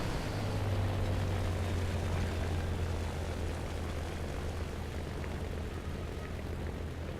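Propeller engine of a Bf 109 K-4 fighter in a video game, a loud, continuous droning roar with a low hum, steady and unbroken throughout.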